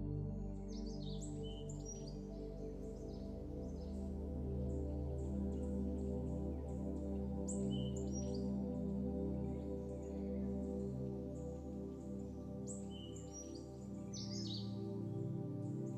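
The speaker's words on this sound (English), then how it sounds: "Listen to the sound of the birds." Birds chirp and sing in scattered bursts over a steady, soft musical drone, light calls coming and going throughout.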